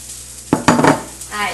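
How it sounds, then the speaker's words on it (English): Shredded hash brown potatoes dropped into a hot pan, a sudden loud sizzle and clatter followed by crackling frying, close by and without talk. "To that, I'm adding 20 ounces of shredded hash brown potatoes."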